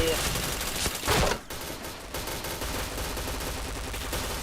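Rapid bursts of automatic gunfire from a shooter video game, dense and loud, then a brief lull before steadier shooting resumes, with faint voices under the shots.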